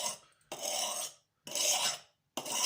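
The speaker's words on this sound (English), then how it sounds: "this helps me to sharpen the knife" Knife blade drawn across a Norton India sharpening stone in three long gritty rasping strokes, each about a second, separated by short silent pauses, close and clear with no voices.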